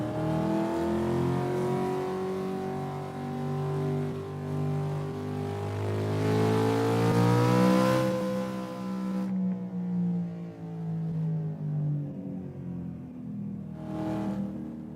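A car accelerates hard up a winding Los Angeles canyon road, its engine note climbing steadily and loudly through the revs, then easing off and cutting back before a brief final surge.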